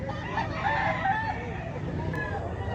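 A fighting rooster crows close by over a busy background of crowd chatter and other fowl noise at a gamecock market.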